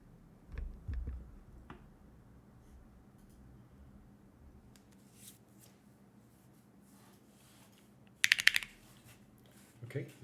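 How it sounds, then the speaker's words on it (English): Typing on a Bakeneko 60 mechanical keyboard: a few soft, scattered key clicks, then a short, louder burst of rapid keystrokes near the end, over a quiet room hum. "let's do a typing test"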